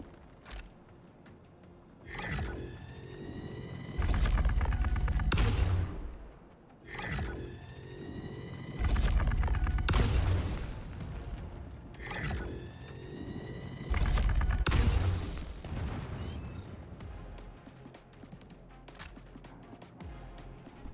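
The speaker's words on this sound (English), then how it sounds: "I took out my railgun, and I destroyed the ship" Star Citizen railgun firing on a ship in a space game: three loud, heavy charged blasts come a few seconds apart, each a sharp crack that swells into a long roaring rumble before fading.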